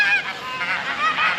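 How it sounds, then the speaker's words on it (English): Geese honk on a small free-range farm, several close, loud calls overlapping in a brief burst with no speech. "Here come the geese."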